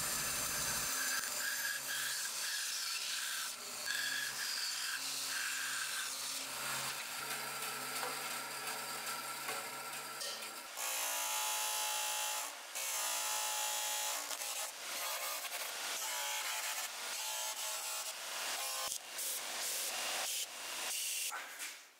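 A wooden hexagon game tile for a custom Settlers of Catan board is sanded with a loud, continuous rasping hiss that shifts in pitch and texture, with brief pauses and a change of tone partway through.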